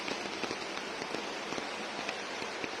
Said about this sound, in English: è arrivata la prima pioggia